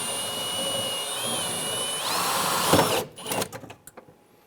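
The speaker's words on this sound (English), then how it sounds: "We're now going to go ahead and drill out the rest of the rivets." Power drill whining steadily as it bores out rivets on a 1995-2001 Ford Explorer front window regulator, the pitch shifting as the bit bites, then a few short bursts and clatter at the end; close and alone.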